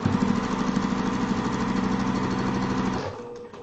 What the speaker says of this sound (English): I'm going to sew on the line